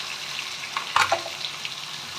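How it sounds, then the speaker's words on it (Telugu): Green chillies dropped into a pan for stuffed brinjal curry sizzle briefly, with a sudden crackling burst in the middle of a soft steady frying hiss, no talk. "పచ్చిమిరపకాయలు వేస్తున్నాం. బాగా మగ్గనియండి."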